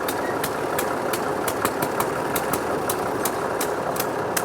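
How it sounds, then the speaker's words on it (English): A vintage Massey Ferguson tractor of about 90 horsepower runs steadily while driving a rack bench, a medium engine drone with regular knocking pulses, close and continuous. "So 90 odd horsepower would be a good sized tractor to drive the rack bench."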